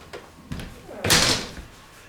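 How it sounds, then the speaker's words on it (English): A hydraulic storm door is pulled shut: a couple of light knocks, then a solid slam close by, with a brief ringing decay. "at this point we're going to close the door"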